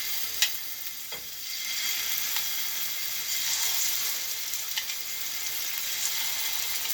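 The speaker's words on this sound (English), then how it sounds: "Now you're going to hear these sizzle." Scallops sear in a hot pan with a steady, fairly quiet broadband sizzle, broken by a few sharp pops and crackles, with no one talking.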